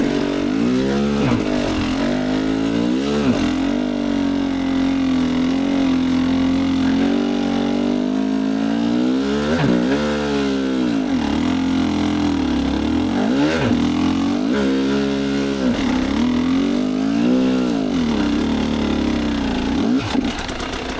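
A 2023 GasGas EC300 TPI two-stroke dirt bike engine runs continuously at low speed in second gear, its close, steady drone rising and dipping with small throttle changes and no one talking.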